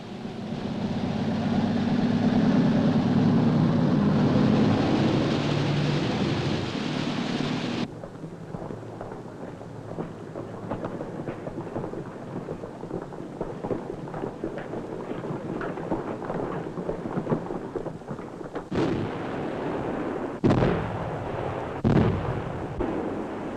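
Artillery fire in a German wartime propaganda film of the invasion of Norway, on the advance along Lake Mjøsa toward Hamar: a heavy rumbling barrage gives way to scattered thuds, with a few sharp, louder blasts near the end, no talk.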